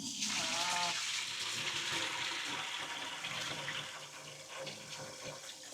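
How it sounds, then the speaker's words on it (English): Tap water runs and gushes steadily into a sink or pot while rice is washed, loud and close at first, then easing slightly with faint sloshing. "Because when you wash rice"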